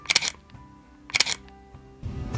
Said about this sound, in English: I immediately noticed how loud the M10 is.